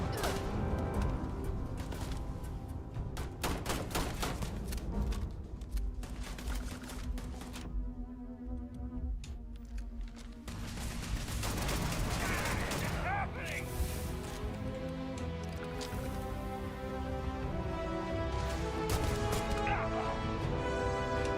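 Rapid gunfire and impacts in the video game Starfield, bursts of shots crackling loud and dense under continuous speech, with a brief lull in the middle before the firing resumes.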